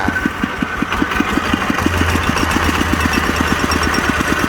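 Small tiller engine running steadily nearby with a regular, evenly spaced knocking pulse from a worn bearing throughout, loud and continuous with no talking.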